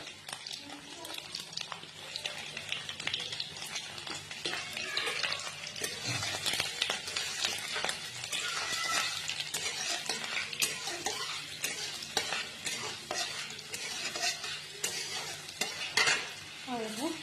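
Crushed garlic and panch phoron frying in hot oil in a kadai, a steady close sizzle broken by repeated scraping and stirring of a spoon against the pan.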